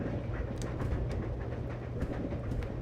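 A moving train in the Resident Evil Zero video game gives a steady low rumble with soft rhythmic clacks and rattles, continuous and close, with no talk.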